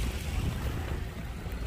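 Waves wash steadily against the Manila Bay shore by the dolomite beach and geotube, a constant broadband rush with wind buffeting the microphone and no voices.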